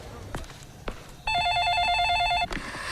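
A landline telephone rings once in a loud electronic trill of rapidly pulsed tones lasting about a second. Footsteps and faint voices from a dark house, where the power has just cut out, come before and after the ring.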